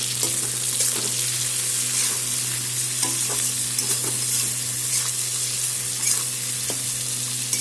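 Tomatoes and onions frying in a pan for Bengali chicken curry, a steady loud sizzle with occasional stirring scrapes throughout, no talking.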